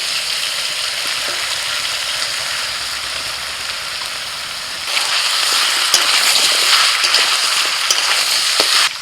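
Carrots, papaya, potatoes and beans go into a pan of chicken frying with onions for a village-style chicken stew, and a steady loud sizzle swells noticeably once they hit the hot oil, close and continuous.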